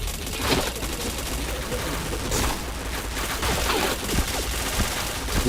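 Rapid gunfire from a first-person shooter video game, dense bursts of shots and impacts running continuously at steady loudness, with a player's voice talking over it.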